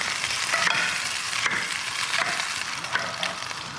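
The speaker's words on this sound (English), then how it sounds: "the next thing we're going to do is cook some onion and garlic" Thinly sliced Spanish onion frying in a pan, a continuous close sizzle with soft crackle and brief stirring scrapes, loud and steady without talk.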